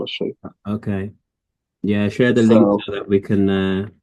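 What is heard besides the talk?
None of the usual background noises is heard.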